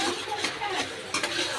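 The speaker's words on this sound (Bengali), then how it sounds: "এবার এটা ভালো করে আমি একটু কষে নেব" Kashmiri red chilli powder being sautéed in a pan, heard as a short burst of close stirring scrapes over a gentle sizzle, moderately quiet, with no one talking.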